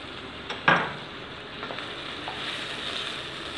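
Chicken and carrots sauté in a pan with a soft, steady sizzle, plus a single sharp utensil clank near the start, quiet and close with no voices.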